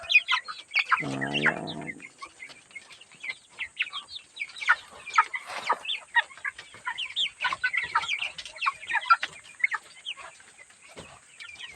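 A flock of broiler chickens clucks and chirps busily while feeding together on a farm, a dense chatter of short calls with one louder drawn-out squawk early on; someone briefly speaks.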